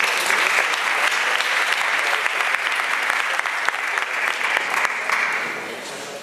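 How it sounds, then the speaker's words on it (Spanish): A full audience claps loudly at a Spark13 Telecentre and Guadalinfo conference in Granada, welcoming the president of the Parliament of Andalusia; the steady, dense clapping lasts about six seconds and begins to fade near the close. "Un fuerte aplauso."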